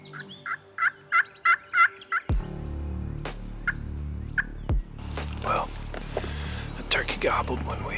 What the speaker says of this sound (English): gobbled when we owl-hooted him from the road